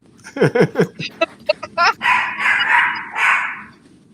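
Several dogs bark in a break room, a quick run of sharp close barks followed by a longer, noisier excited burst, all loud and near.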